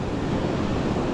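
Sea waves wash continuously onto the shore, a steady full-band rush of surf with no breaks or voices across the brief stretch.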